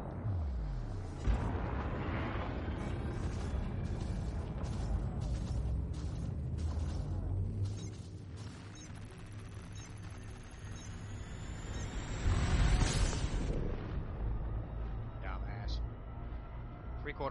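A spaceship in the Elite Dangerous video game spools up for a hyperspace jump with a low, rumbling mechanical roar and a rising whine, building to a surge partway through, while a synthetic-sounding voice speaks over it.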